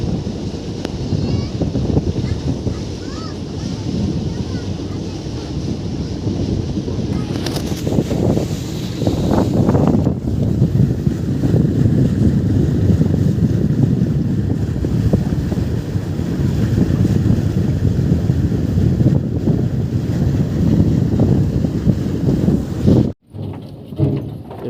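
Wind roars steadily across the microphone during a boat ride on open water, a loud, continuous rush with a low churning rumble underneath that cuts off abruptly near the end.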